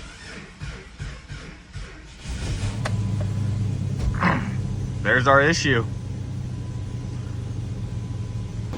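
An old Jeep engine cranks and catches, then settles into a steady low rumbling idle while someone speaks over it.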